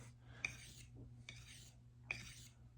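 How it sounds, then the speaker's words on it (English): A knife blade drawn along a sharpening stone to bring it to a shaving-sharp edge, heard as a few quiet, separate rasping strokes with short gaps between them over a low steady hum. "sharpen like this. This is how you bring an edge to shaving sharp."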